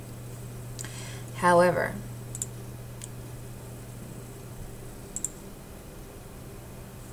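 Sharp mouse clicks while closing a Microsoft Word document, a few faint isolated taps spread over several seconds after a brief spoken word.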